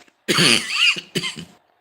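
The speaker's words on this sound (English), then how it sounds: "I'm coughing because of reflux" A couple of harsh, close coughs from reflux, a long rough burst followed by a shorter one, with a brief silence before and after.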